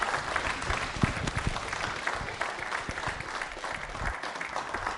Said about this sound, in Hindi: तालियां जोरों से बजाइए साहब।